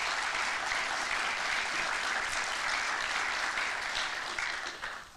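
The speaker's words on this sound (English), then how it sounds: "Let's give the students an applause to all of them." Sustained applause from an audience at a senior engineering student symposium, broad and even from many hands, tapering off slightly at the very end.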